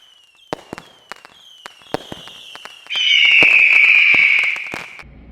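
Fireworks crackle with scattered sharp pops, then a loud whistling rocket shrieks for about two seconds before fading.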